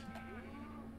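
A cow in the Minecraft PS1 Edition video game lets out a single short, close, bleating moo over a steady background hum.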